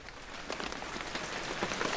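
Rain falls on dry leaves in a steady, dense patter of close droplets lasting throughout, fairly quiet and alone with no voices.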